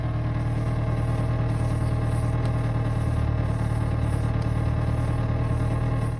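A deep, rough exhaust rumble drones continuously and loudly from a Renault Clio 172 with a worn-out exhaust, steady throughout with no voices.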